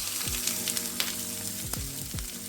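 Chicken Kievs frying in a pan on medium-high heat give a continuous close sizzle and crackle, with a few faint whining tones gliding downward, and no talking.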